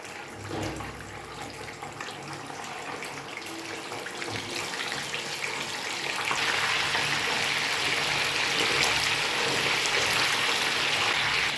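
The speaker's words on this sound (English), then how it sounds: "now we shall start frying the fish" A steady hiss of sizzling builds and grows louder partway through, a busy crackling sound of fish frying in hot oil close by.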